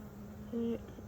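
A gentle Italian honeybee hovers close by, giving one short, steady buzz that rises clearly above a quiet background hiss.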